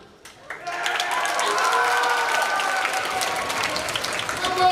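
A school assembly audience bursts into loud, sustained applause and cheering that swells quickly and holds steady.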